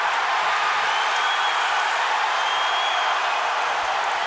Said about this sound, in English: And the crowd goes crazy as Matt Brown gets upright